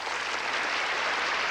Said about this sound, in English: You may applaud yourselves.